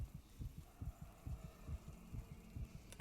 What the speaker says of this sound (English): You can actually hear Isaac's heartbeat